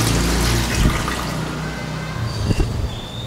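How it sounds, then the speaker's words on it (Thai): A toilet in a clean public restroom with grab rails for disabled users is flushed, giving a loud rushing gush of water that settles into a steadier refilling hiss. "แล้วเราก็จะมีโถชักโครกเราก็กดลงไป"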